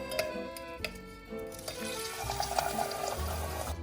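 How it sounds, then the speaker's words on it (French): Vegetable bouillon made from a stock cube is poured over veal pieces for a French blanquette, a steady liquid stream splashing and gurgling for several seconds at close range with no talking. "Je le verse sur la viande."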